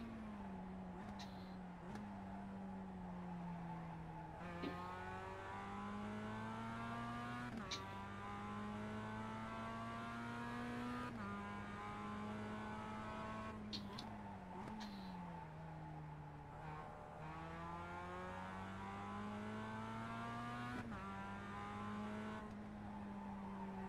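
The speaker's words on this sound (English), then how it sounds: "I'm wringing the neck off of this Mazda MX5 here." A Mazda MX-5 engine in the iRacing sim at Tsukuba revs hard through gear changes for the whole stretch, its harmonic pitch climbing and dropping with each shift, steady and loud with no talking.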